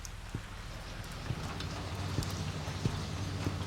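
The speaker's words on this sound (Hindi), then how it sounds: "बारिश हो रही है।" Steady rain falls on a surface outdoors, with scattered individual drops tapping through a constant soft hiss, fairly faint.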